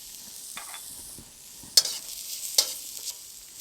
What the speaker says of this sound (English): And then we add galangal roots. Keep stirring it until it gets fragrant.